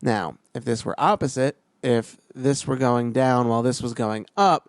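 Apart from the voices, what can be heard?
None of the usual background noises is heard.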